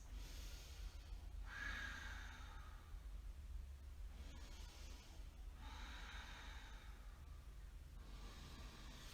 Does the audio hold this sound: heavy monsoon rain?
no